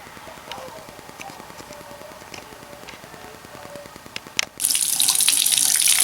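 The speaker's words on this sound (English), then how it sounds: "This filter can just be cleaned with regular water running over it right here." Tap water runs over an air conditioner filter, a steady loud broadband rush that starts abruptly partway through after quieter clatter and handling sounds.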